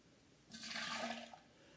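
Warm water poured out of a pre-heated glass into a sink while making Irish coffee, a single short splashing gush lasting under a second, fairly close and alone.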